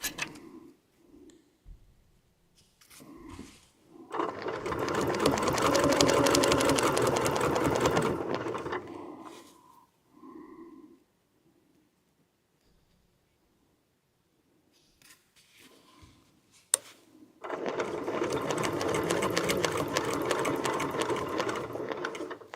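A sewing machine stitches quilt blocks in two steady runs of rapid mechanical whirring, separated by quiet handling noises and a brief pause.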